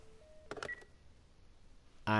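Telephone keypad beeps sound in The Last of Us Part 1: two short clean tones, then a brief rattling burst, and finally a loud buzzing tone that cuts in abruptly at the end.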